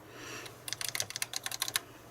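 Keys clatter in a quick, uneven burst of typing on a ZX Spectrum 128k +2 keyboard, close and fairly loud, after a short quiet lead-in with faint background hiss.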